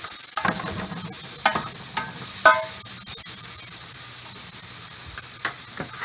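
Ingredients sauteing in a pan for smoked lamb ribs give a soft, steady sizzle with a few sharp stirring scrapes and clinks, close and moderately quiet, with no talking.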